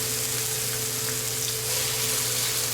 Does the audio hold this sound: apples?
yes